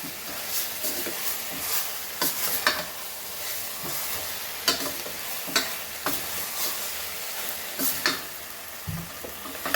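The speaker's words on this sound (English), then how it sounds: "Mix this all nicely." Crab and mango xacuti masala is stirred in a pan, with a spoon scraping and clacking in uneven strokes over a constant soft sizzle, close and fairly loud with no talking.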